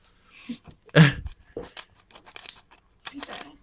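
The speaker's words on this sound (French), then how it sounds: "c'est le ciseau du bled ça" Scissors cutting while a trading card pack is opened: a few sharp snips and crinkles in bursts, close and fairly quiet, with near silence in between.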